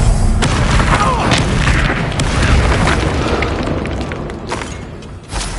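Booming spell blasts from Confringo and other fire spells in the video game Hogwarts Legacy, a dense, loud barrage of bursts and rumbling impacts through the whole stretch, with a sharp pop near the end.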